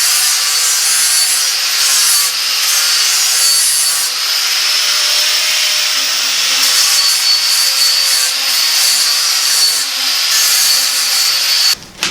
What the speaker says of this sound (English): I'll just hit this with a grinder.